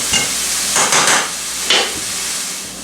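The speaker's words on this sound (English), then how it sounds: "We're going to let this saute for a few seconds or a few minutes." Onions and roughly two pounds of beef tips sautéing on a stovetop, a loud close sizzle that swells in a few bursts as the pieces are stirred and scraped, then settles.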